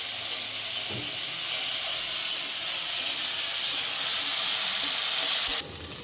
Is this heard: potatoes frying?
yes